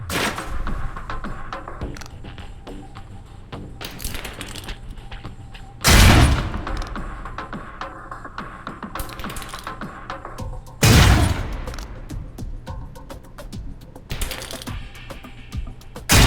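Concussion grenades burst in the Alpha Protocol video game, two heavy booms several seconds apart over a busy backdrop of mechanical clicks and rattling game noise.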